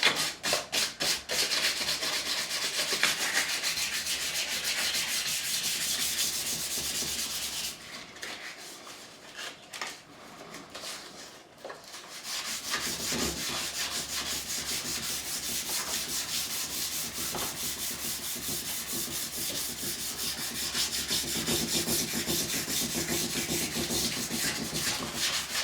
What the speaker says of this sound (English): Once I've got this all sanded over, it's going to take the oil much better.